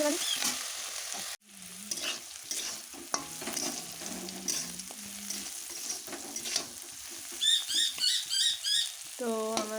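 Food sizzling and frying in a pan at home for a family meal, with steady crackle and occasional stirring scrapes, a short bright squeak-like pattern near the end, and faint voices in the background.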